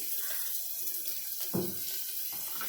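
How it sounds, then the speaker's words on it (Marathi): Chopped onion goes into hot oil for dal khichdi, and a soft, continuous frying hiss swells into a sharper sizzle partway through before settling back down. "तेल माझं तापलेलं होतं आता मी लगेच कांदा टाकून देते"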